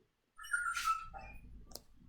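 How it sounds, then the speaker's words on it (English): A dog gives a short, high whining yelp followed by a few softer whimpers, close and fairly clear, with faint room noise and no talking. "Do you hear Murder Dog?"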